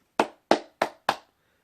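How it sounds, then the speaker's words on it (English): One person claps their hands four times in a steady, evenly spaced rhythm, each clap sharp and close, with a short quiet tail after the last. "and you get applause from me"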